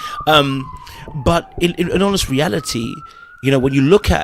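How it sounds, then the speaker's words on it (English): Police car sirens in New York wail faintly in the background, a thin rising and falling tone running beneath someone talking close up throughout. "Sorry about the noise about hearing the police cars."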